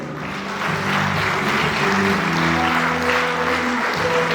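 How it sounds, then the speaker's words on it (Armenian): A concert audience in a hall applauding loudly, dense continuous clapping that swells in at the start and holds steady, with a low sustained tone ringing underneath. "Բարձր ծափահարում ենք։"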